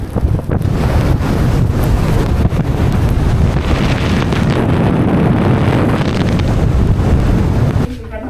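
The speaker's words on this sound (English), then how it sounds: "definitely the wind" Strong wind roars across the microphone on a ship at sea near Antarctica, with snow falling and penguin colonies in the distance, a loud continuous buffeting rush with sea noise underneath that eases just before the end.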